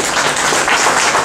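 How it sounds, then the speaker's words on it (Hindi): Audience applause at a political gathering, a steady wash of clapping from a crowd, loud and continuous with no speech over it. "साथी तालियां बजा करके"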